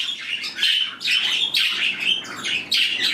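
Pet birds in an indoor bird room chirp and tweet in bright, repeated bursts, several calls overlapping close by and loud with no talking.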